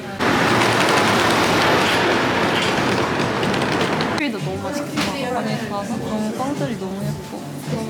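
Train ride in Copenhagen: loud rolling rumble and clatter of the carriage on the rails, easing after a few seconds into softer rhythmic clicks and wheel noise, with no talk.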